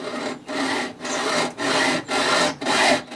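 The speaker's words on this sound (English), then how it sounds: "When you're cutting something as thin as downspout, be sure to use a hacksaw blade that has at least 32 teeth per inch." A hacksaw with a fine 32-teeth-per-inch blade cuts through a thin metal downspout, giving close, steady rasping strokes in a regular back-and-forth rhythm with brief pauses between about six pushes.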